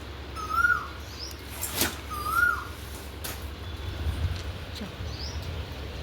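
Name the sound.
Asian koel calling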